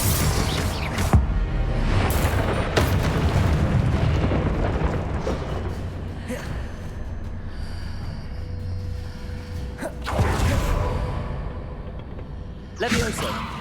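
Confringo blasting spell explosions in Hogwarts Legacy combat, several loud booming blasts with whooshes spread across the stretch, heavy rumble throughout and a voice talking over parts of it.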